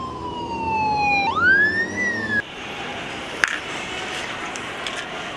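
A police bus siren wails loud and close, its tone sweeping upward and holding high before cutting off abruptly, leaving quieter background noise with one sharp click.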